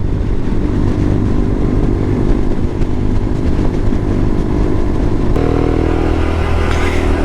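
A motorcycle cruises on the highway past the Padma Bridge, its loud, continuous engine drone mixed with rushing wind, the tone shifting slightly near the end.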